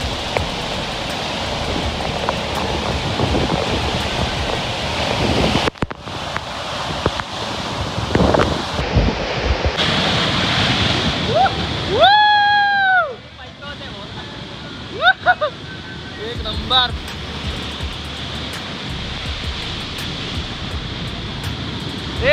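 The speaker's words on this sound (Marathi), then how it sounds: "वॉटरफॉलच्या आतमध्ये बघा अलीकडे" Waterfall at Khopoli roaring as a steady broadband wash of falling water, close and loud, with people talking over it and brief chirp-like sounds partway through.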